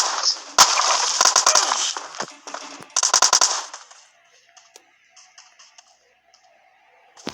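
Close automatic gunfire in PUBG Mobile rattles out in two rapid bursts, followed by scattered quieter distant shots and clicks.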